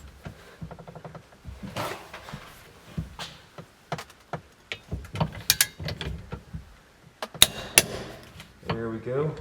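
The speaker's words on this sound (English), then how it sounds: "Now let's get the torque wrench." A torque wrench on a Porsche 944 ratchets in short, close clicking runs while bolts are tightened to 54 foot-pounds, with a few metallic clinks between strokes and faint talk in the background.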